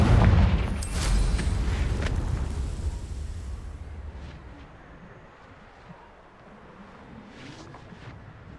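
A Confringo fire spell blasts in Hogwarts Legacy with a loud, booming explosion at the start, followed by a long rumbling tail that slowly fades into quieter crackles and debris.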